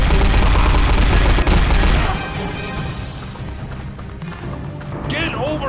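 Gunfire and sniper shots fill a World War II Omaha Beach battle in the mobile shooter Frontline Commando. A loud, dense burst of firing gives way to scattered shots and combat noise, with a shouting soldier's voice over it.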